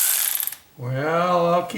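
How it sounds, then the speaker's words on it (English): A hand ratchet loosens number 13 bolts while the intake is removed from an engine being converted from TBI to carburetor: a quick burst of close mechanical clicking, then a sustained tonal, voice-like sound. "broke them all loose with my hand ratchet."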